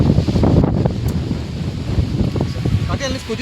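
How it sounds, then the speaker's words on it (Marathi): Wind buffets the microphone in a forest with a continuous low, rough rumble, gusting strongest at the start, with muffled background sounds. "इथून बघा किती सुंदर असा वारा लागतोय"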